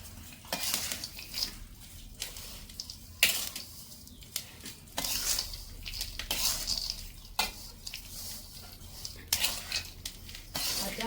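A spoon stirs a thick mixture of dates, peanuts, condensed milk and butter in a pot, giving repeated scraping and knocking strokes in an uneven rhythm, close and moderately loud.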